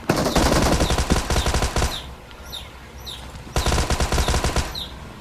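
Rapid machine-gun fire in a video game, loud dense bursts of rattling shots that pause briefly and then resume, with faint whooshing effects in the gap.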